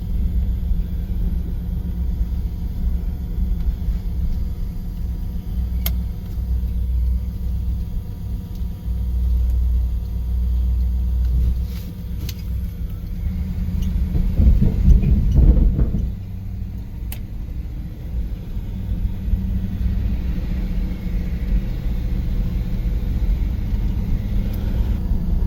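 A 1971 Cadillac Sedan Deville with a newly replaced fuel pump cruises on the highway, its low engine and road rumble droning steadily inside the cabin, swelling briefly midway, with no talking.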